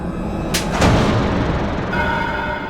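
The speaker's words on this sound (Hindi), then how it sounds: "ये पटाखे बहुत अच्छे हैं, बहुत आवाज है इनकी।" Loud firecracker bangs burst close by, two sharp cracks followed by a lingering rumbling blast and noisy ringing tail.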